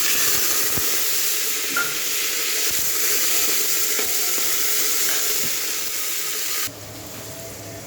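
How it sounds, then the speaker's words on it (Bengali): A large chopped onion fries in hot oil in a home kitchen, giving a steady close sizzle with occasional stirring clicks, which drops abruptly quieter near the end. "ওই তেলে পেঁয়াজটা দিয়ে দেবো।"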